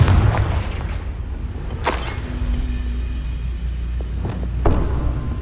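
A Confringo blast spell goes off in Hogwarts Legacy, a sharp booming burst over a low rumbling game soundscape, with a couple of smaller cracks following.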